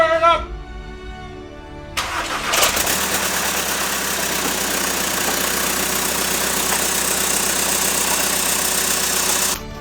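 An MK6 Passat TDI diesel engine with a stage 3 turbo cranks, fires and settles into a loud, steady clattering idle that runs on to the end.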